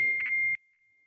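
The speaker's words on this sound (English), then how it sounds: "I'm gonna try to make my phone quit dinging." A phone notification chimes in a press room, a clear tonal ding repeating in a quick few pulses and then ringing out into near silence.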